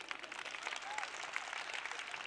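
Faint, steady applause from a lecture audience, a soft continuous patter of clapping heard at a distance throughout.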